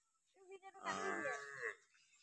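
A single loud, drawn-out cow moo close by, rising and then fading, with faint grunting sounds just before it.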